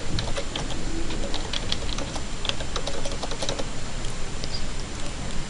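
Soft, steady clicking of keys as account numbers are typed on a computer keyboard, close and continuous over a dense background hiss.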